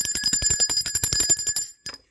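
A small bell is rung rapidly in a fast, rattling trill for nearly two seconds, loud and close. It stops abruptly, then gives one brief final ring with nothing else heard.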